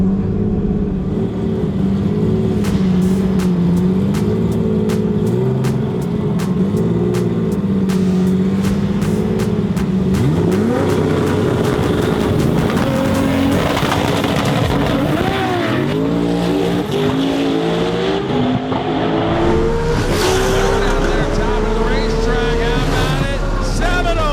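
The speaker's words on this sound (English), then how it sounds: "Got this last base small block Chevy twin turbo in the pick 'em up truck." A twin-turbo small block Chevy pickup truck at a drag racing event, engine roaring loud and sustained with pitch sweeps as it revs and accelerates, a dense, continuous mechanical blare.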